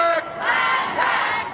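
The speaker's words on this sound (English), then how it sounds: "with crowds filling Auckland's streets" A large crowd of climate protesters fills Auckland streets, shouting and chanting loudly together in a sustained roar that swells twice.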